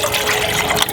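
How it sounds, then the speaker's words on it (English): Water pours from a bottle into a cup for boiling on a camp burner, a brief close splashing trickle with no voices. "Now I'm going to add some water to my cup"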